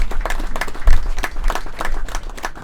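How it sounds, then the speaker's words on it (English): An audience at an NGO expo in Zimbabwe's Northern Region claps in a fairly sparse, uneven patter of individual hand claps that carries steadily for a few seconds. "For their unwavering support for this Expo, let us give them a round of applause."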